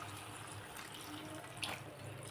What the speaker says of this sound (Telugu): దీంట్లో ఒక సరిపడా నీళ్ళు పోద్దాము.